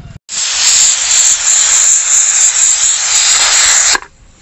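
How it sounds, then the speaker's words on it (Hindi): A pressure cooker on a stove whistles while boiling jackfruit: one loud, steady, hissing jet of steam that starts abruptly, holds for almost four seconds, then cuts off, leaving a faint background. "तो एक सीटी हो गई है"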